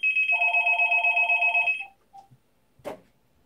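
A telephone rings with a rapid, warbling electronic bell trill that repeats steadily for nearly two seconds, then cuts off, followed by a couple of soft clicks and a short thump in an otherwise quiet room.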